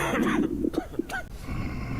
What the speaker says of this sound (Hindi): अगर कोई इन्फेक्टेड है तो वो ऐसी आवाज करेगा। ये छींकेगा, हिचकी लेगा, खांसी ले रहा है।